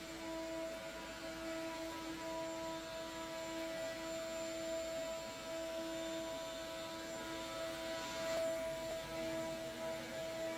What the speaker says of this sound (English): I'm kind of in love with my shop vac